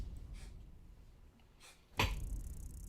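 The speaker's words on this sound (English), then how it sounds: "Oh, I got a cat sneezing?" A single sharp cat sneeze bursts out after a couple of soft, breathy puffs, fairly close, against a quiet background hiss.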